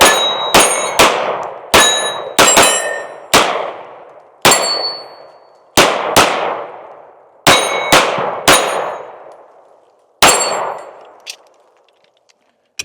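Shots from an S&W Metal M&P 2.0 Compact pistol fired outdoors, about fifteen sharp, loud reports in irregular groups and pairs, each followed by a ringing decay. Two quick double taps come early, and a final lone shot is followed by a faint clink.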